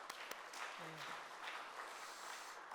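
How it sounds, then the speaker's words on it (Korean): Church congregation clapping in praise to God during a Korean worship service, a broad steady wash of applause lasting throughout, fairly quiet and distant-sounding, with a brief murmur of voice partway through. "먼저 하나님께 영광의 박수 올려드리겠습니다."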